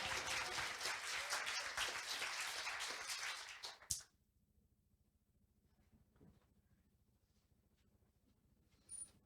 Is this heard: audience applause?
yes